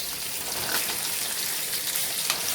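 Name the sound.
pork chops searing in a pan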